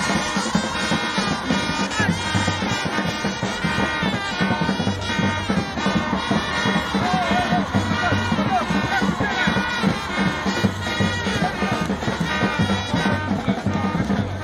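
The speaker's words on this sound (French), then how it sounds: "toutes ces femmes qui l'ont accueilli avec acclamation et des cris de joie à tue-tête" A dense crowd of women at a stadium cheers and shouts with joy, a continuous loud roar of many voices with drumming woven through it, sustained throughout without a break.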